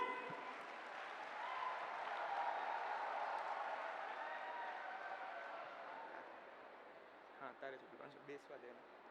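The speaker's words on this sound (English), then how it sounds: "A huge round of applause, guys!" Applause from an audience at a chartered accountants' event in Ahmedabad, a broad sustained wash of clapping that swells and then fades, with a few scattered claps at the end.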